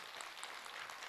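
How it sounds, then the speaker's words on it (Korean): Applause from a seated audience at a Buddhist dharma talk welcomes a questioner, a short, soft wash of steady clapping heard at a distance. "네, 박수로 맞으세요."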